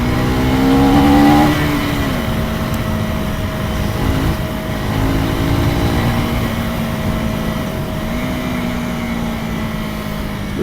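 A 2024 Husqvarna Svartpilen 401 motorcycle engine drones steadily while riding, its pitch dropping and rising with gear shifts and throttle changes, close and continuous with no talking.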